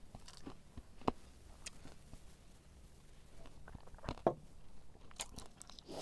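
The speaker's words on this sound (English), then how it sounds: "The gum is good, it has a good crunch." Crunchy gum from a Polish military combat ration chewed close to the mic, faint irregular crunches and soft mouth sounds with a couple of sharper bites and no talking.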